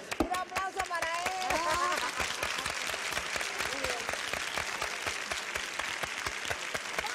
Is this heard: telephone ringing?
no